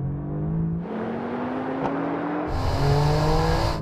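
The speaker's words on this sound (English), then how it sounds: "let's have a drag race to see which GTR is quickest" A Nissan GT-R and a Mercedes-AMG GT R accelerate hard in a drag race, their engines climbing steadily in pitch with a gear change partway through and loud, continuous roaring from close by.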